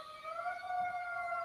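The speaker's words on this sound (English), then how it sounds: "that's a fire truck, not an ambulance or a police cruiser." A steady emergency siren with a fire-truck wail holds a sustained tone that rises slightly, sounding from a moderate distance without any talk.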